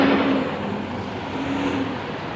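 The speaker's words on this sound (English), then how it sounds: "I wait on this truck. He's going to be pulling out there trying to get around him." Steady road traffic rumble from a truck pulling out, a broad continuous roar with a faint tonal hum, close and loud with no talk over it.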